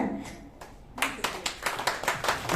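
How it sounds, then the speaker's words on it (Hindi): Audience clapping at a women's award ceremony in Karnal, India, for a guest from Panipat; scattered claps build into quicker, denser applause, with a voice heard early on. "जोरदार तालियां पानीपत से।"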